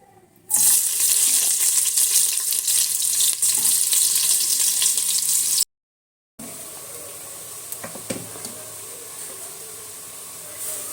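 Onions frying in oil in a pressure cooker, a loud steady sizzle that starts abruptly, drops out briefly, then continues more softly with a few clinks.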